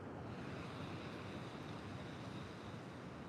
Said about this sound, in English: Some fun little waves out there.